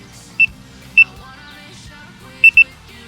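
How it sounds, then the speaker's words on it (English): Carp fishing bite alarm on a lakeside rod gives four short, sharp electronic beeps, two spaced apart and then a quick pair, loud and close against faint outdoor background. "Turn my alarm back on."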